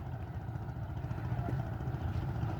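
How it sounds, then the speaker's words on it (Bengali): A low, steady fishing trawler engine chugs continuously with a rhythmic throb at moderate distance. "ট্রলার আসছে, ট্রলার"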